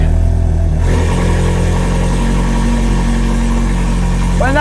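A Ferrari 430 Scuderia cold start: the engine roars loudly and evenly at a high idle, then drops after a moment to a deep, steady, rumbling idle with strong low vibration.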